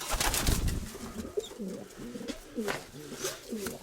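Pigeons cooing close by, soft throaty coos repeating in a low rhythmic burble, with some rustling and background noise.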